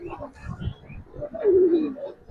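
Pigeon cooing from a female Giribaz coloring pigeon, a tournament-flown bird, a soft warbling coo rising in the second half over low rumbling background noise, close by, with no talk.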